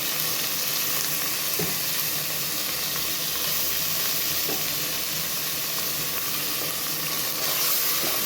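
Sliced onions with ginger garlic paste sauté in a pan for a mutton dhalcha, producing a continuous, even sizzle and hiss with faint stirring scrapes and no voices.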